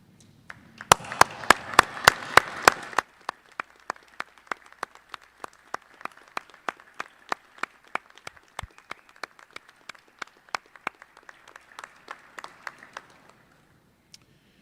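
A graduating medical class at a white coat ceremony applauds family and friends: a burst of dense clapping for a couple of seconds, then thinning out into scattered individual claps that fade away in a large hall.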